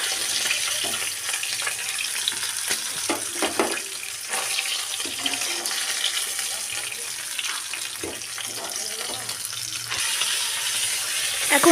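Steady crackling sizzle of catla fish frying in hot oil, continuous and close, with occasional louder pops and spatters.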